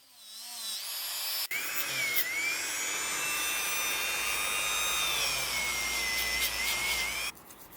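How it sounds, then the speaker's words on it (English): A Dremel rotary tool fitted with a wire brush grinds rust off the metal parts of an antique razor stropper, a loud, steady high whine after a brief spin-up, sustained for several seconds and then cutting off. "I'm using the Dremel, but I'm using a wire brush initially on these parts"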